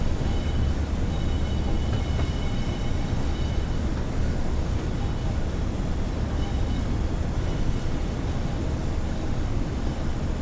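Steady rumbling roar of a train crossing a bridge in the Train Sim World 5 simulator, a dense low drone of wheels and rails holding even and fairly loud throughout with no talk.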